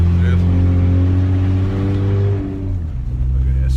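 An auction car driven and swerved on the road, its engine humming loudly and steadily up close before easing off toward the end, with someone talking over it.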